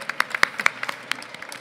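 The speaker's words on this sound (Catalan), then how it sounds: "Un aplaudiment." A small audience at a Catalan manga and anime talk in Barcelona gives a brief, moderately quiet round of applause, sparse claps pattering irregularly throughout.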